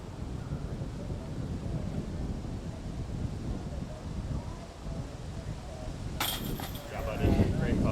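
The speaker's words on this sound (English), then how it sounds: "not only is it windy, but it looks like it's our famous SoCal Santa Ana winds" Santa Ana winds buffet a microphone on a golf course during a tournament round, a steady low rumbling roar that swells with a sharper gust burst near the end.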